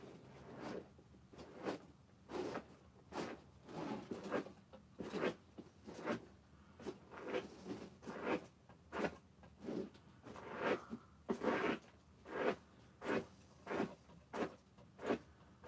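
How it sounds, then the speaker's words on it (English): A comb is drawn again and again through freshly cut hair on a Michael Myers mask, making quiet, regular brushing strokes about once a second. "first I gotta comb out what I just cut"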